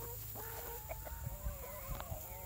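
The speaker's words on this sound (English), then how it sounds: "I think that's the rooster" A rooster clucks in short, repeated bursts at a moderate distance over a steady low background hum, with faint higher calls mixed in.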